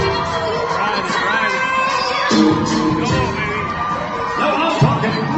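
A large rodeo crowd cheers, whoops and shouts loudly in a continuous roar that swells in places, with a voice talking over the noise.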